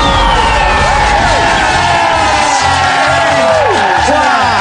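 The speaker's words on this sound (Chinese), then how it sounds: "掌声。" A studio audience at a televised karaoke contest applauds and cheers loudly and continuously, with whoops and shouts rising above the dense clapping.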